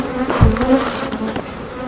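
Honeybees buzz loudly and continuously close by as a beekeeper works the hive, a dense droning hum that wavers slightly in pitch, with no voices.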